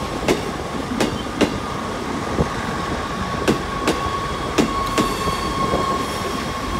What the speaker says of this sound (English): We've got a 150 coming out of the depot.